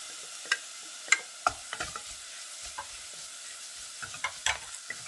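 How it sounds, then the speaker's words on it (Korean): Shiitake mushrooms stir-fried in a pan for beef rice porridge, a steady close sizzle broken by repeated sharp scraping clicks of a utensil stirring, no voices. "표고도 볶아주세요."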